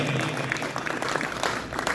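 An audience applauds at a cricket league opening ceremony, a short burst of dense clapping from a crowd at moderate distance, with a voice faintly underneath.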